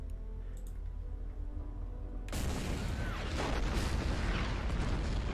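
Artillery shelling in the World War II strategy game Order of Battle starts as a low, steady rumble. It then breaks into a loud, dense burst of booms and crackling impacts that continues to the end.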